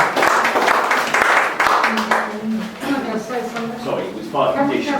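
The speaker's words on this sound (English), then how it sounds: "I think you all deserve a round of applause for coming this evening." An evening meeting audience in a hall claps in a loud burst, and people begin talking over the fading applause.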